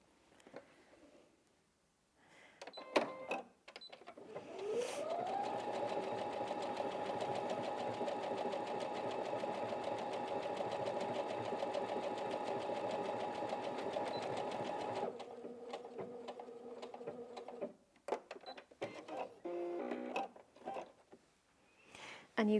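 Brother Inventio NV1850Q sewing machine stitching a row of decorative heart stitches, a sustained close mechanical whir lasting about ten seconds, bracketed by brief clicks and handling noises before and after.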